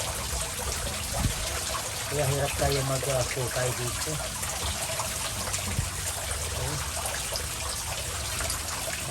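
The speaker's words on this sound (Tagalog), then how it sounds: "agos ng tubig sa ating minahukay na ito" Water rushes steadily into a freshly dug hole with a constant hissing, gurgling flow. Someone talks over it in short phrases.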